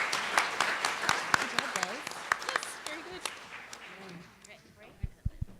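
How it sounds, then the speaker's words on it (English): An audience at an awards showcase applauds the presenters, a moderate patter of clapping that tapers off over several seconds while voices chatter beneath, ending in a few isolated claps. "If everyone could give our presenters a round of applause."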